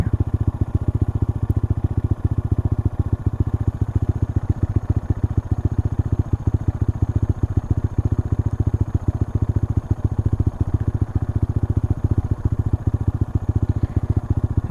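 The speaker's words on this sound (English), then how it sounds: "I'm going to fire up the A racer." A Honda Monkey motorcycle engine idles steadily up close, a fast even low-pitched putter with light mechanical clatter running throughout.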